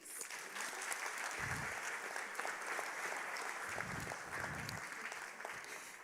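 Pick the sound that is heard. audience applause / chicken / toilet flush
audience applause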